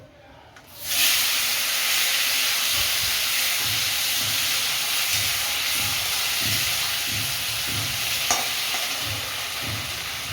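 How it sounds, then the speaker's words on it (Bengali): Potatoes frying in hot oil left over from frying katla fish and pointed gourd, a steady loud sizzle and hiss that starts abruptly after a brief quiet moment and continues evenly, with faint stirring clatter underneath. "এই তেলে আলুটাও ভেজে নেব।"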